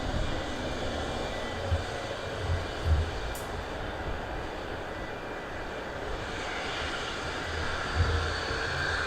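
An easyJet jet at Southend Airport winding down on the stand, a steady broad engine roar with faint low thumps, heard from a distance without talk.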